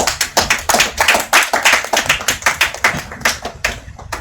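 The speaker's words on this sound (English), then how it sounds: "Ladies and gentlemen, let's give a warm round of applause for Dr." Audience applause for a speaker at a Philippine policy institute event on manufacturing, heard as close, brisk clapping in an uneven rhythm from a fairly small group, loud and with no talking.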